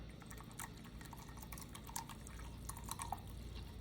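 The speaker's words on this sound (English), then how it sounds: "we're gonna put in 4 ounces of water" Quiet, steady trickle of water pouring into a cup of coffee grounds, with small drips and splashes standing out over a low background hum.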